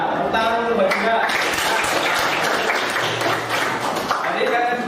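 Students in a classroom clap in a dense, close round of applause, with voices chattering and calling out over the clapping throughout.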